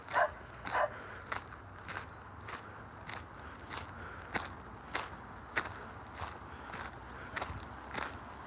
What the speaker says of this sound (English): I can hear some dogs coming, some dog walkers.